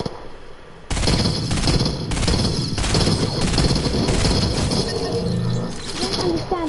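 Video game gunfire during an online match: dense, continuous automatic fire and crashing impacts start abruptly and stay loud for several seconds, with faint chatter underneath.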